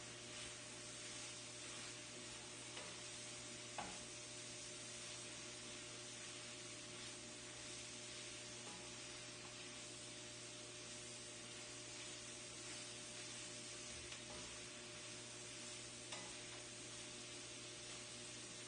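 Mushrooms browning in a pan for beef stroganoff give off a steady, quiet hiss and faint sizzle, with a few soft clicks and no talking.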